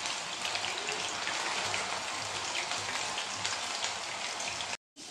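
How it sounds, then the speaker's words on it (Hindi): Coated potato rings sizzle in hot oil with a dense, steady crackle and hiss close to the pan, continuous throughout before a brief cut near the end. "इसे अलट पलट के एकदम क्रिस्पी होने तक फ्राई कर लेंगे।"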